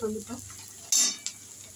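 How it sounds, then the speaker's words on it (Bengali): Chopped tomato drops into onions frying in a pan with a sudden loud sizzle burst, then a brief second hiss and softer stirring and utensil scrapes, heard close and alone. "এবার আমরা টমেটোটা দিয়ে দেবো এর মধ্যে।"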